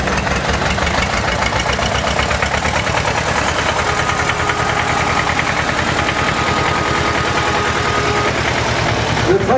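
A 1956 McCormick Farmall tractor engine chugs at a vintage tractor parade, its rapid, even knocking beat running loud and close for the full stretch without pause.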